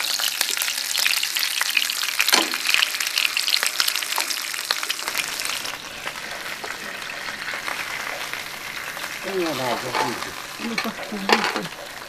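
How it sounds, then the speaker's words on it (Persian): Pieces of chicken fry and sizzle in a pot of hot oil while being stirred, a loud continuous crackle with scraping stir sounds that eases into a softer, steadier hiss. "حالا مرغ رو بذاریم توی تو سرخ بشه."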